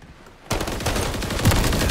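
Rapid video game shooter gunfire erupts after a short quiet lead-in, sustained bursts of close, loud shots rattling without pause.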